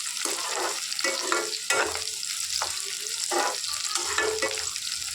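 Sliced onions and curry leaves sauté in a hot pan for a fish curry, with a steady sizzle under repeated scraping stirs of a spoon at an uneven rhythm, close up and moderately quiet.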